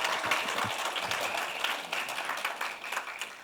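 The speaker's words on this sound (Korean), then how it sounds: "큰 박수로" An audience claps at a business support program performance-sharing event in South Chungcheong Province, a moderate patter of applause with scattered louder claps, heard at middling distance.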